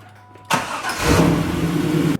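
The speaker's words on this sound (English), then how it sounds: "we're going to start it up and let it idle" A 1999 Pontiac Firebird engine cranks briefly and catches with a sudden loud burst, then settles into a steady, rumbling idle close by for about two seconds before the sound cuts off.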